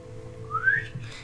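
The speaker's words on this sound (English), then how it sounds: "I'm going to give a good old sharp cowboy whistle." A single rising whistle, sharp and fairly close, lasting about a second against a quiet hum, offered as a cowboy-style call whistle.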